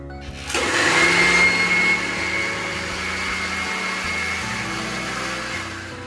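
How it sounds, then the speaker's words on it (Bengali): An electric mixer grinder spins soaked rice and a little water into batter, starting abruptly and then holding a loud, steady, close whirring motor drone with no talk. "এবার এটাকে ভালো করে মিক্সিতে ঘুরিয়ে নেব।"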